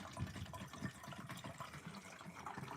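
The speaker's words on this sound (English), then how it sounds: "In goes the isopropyl alcohol." Isopropyl alcohol being poured into water, a steady soft gushing trickle that runs throughout, fairly faint and close, with no talking.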